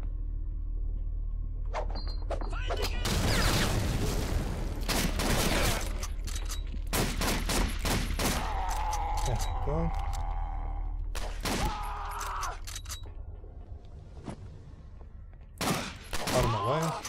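Gunfire in the video game Blade of Agony, with loud bursts of shots in quick volleys and scattered single cracks, mixed with clanks and other game effects and a player talking at times.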